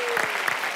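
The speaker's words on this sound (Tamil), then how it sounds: "சிங்கமுத்தானுக்கும் அணையாக்கு ஒரு பெரிய கைத்தட்டல் கொடுத்தலாம்" Brief burst of audience applause at a televised Tamil comedy show, a dense steady patter of clapping, fairly loud and close.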